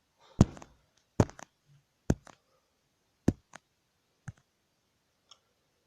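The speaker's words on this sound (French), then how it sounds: "je vais cliquer en même temps" Sharp mouse clicks in a game sound close and isolated in a quiet room, about six distinct taps spaced unevenly, some in quick doubles.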